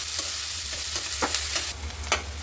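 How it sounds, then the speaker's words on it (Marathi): Chopped onion fries in hot oil for pav bhaji, giving a steady close sizzle with a few soft stirring scrapes and small pops. "कांदा छान सोनेरी रंगापर्यंत भाजून घेते"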